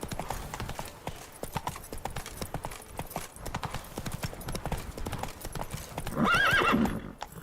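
Roach the horse gallops in The Witcher 3, a steady rhythmic clip-clop of hooves running throughout, with a short whinny near the end and faint speech mixed in.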